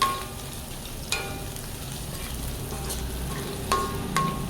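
Guava pieces with green and dried red chillies are stirred in a frying pan for chutney, giving a steady soft sizzle with a few sharp scrapes and clicks of the spoon and no talking.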